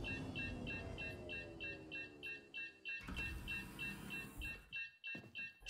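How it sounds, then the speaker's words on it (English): Steady repeating electronic warning beeps from a ship's alert system in Star Citizen, evenly spaced and continuing throughout over a low engine hum, with a louder whooshing burst partway through. "You can stop beeping anytime you like."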